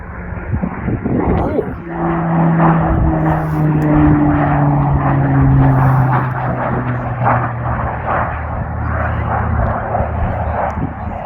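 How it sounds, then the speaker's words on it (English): A low-flying propeller plane passes overhead near Ruthven Barracks in the Scottish Highlands, a loud, steady engine drone with a droning hum that swells and holds for several seconds, with faint outdoor ambience around it. "Low flying plane."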